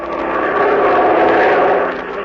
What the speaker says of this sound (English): we were flying our plane over the world's toughest transport route